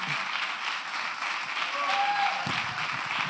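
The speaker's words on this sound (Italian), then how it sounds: "un grande applauso Sandro Canori" Audience applause at a live comedy show, a continuous broad clatter of clapping with some crowd noise and a brief whistle-like tone partway through, building a little louder toward the end.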